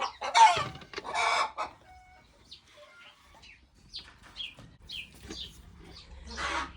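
Hens on a farm clucking and squawking loudly in bursts, a noisy racket of several birds near the listener, with quieter clucks continuing between louder outbursts.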